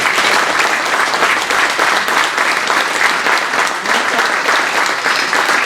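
An audience at a gathering at Eldheimar, Iceland, claps steadily throughout, a dense, sustained round of applause with no pauses.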